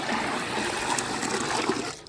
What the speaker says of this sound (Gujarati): ગાને પાણી પાવાનું